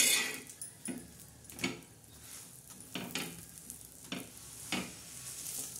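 Pav bread warming on a hot tawa used just before for an omelette, giving a steady soft sizzle with a few light scraping and tapping knocks from handling, close and alone without talk.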